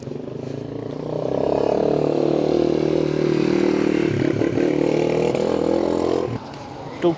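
A motorbike or tuk-tuk passing on a village road in Tanzania. The engine swells in close and holds loud for several seconds, then drops away abruptly.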